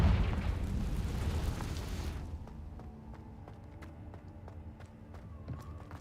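Confringo blasting spell detonating in a wizard video game, a loud, rumbling explosion that roars for about two seconds and then drops into a quieter tail of scattered crackles and debris.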